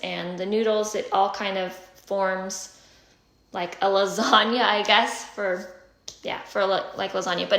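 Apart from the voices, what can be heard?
No everyday noise stands out behind the speech.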